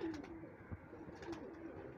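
Domestic pigeons coo softly and repeatedly at close range in a loft, low rounded calls recurring over quiet background noise.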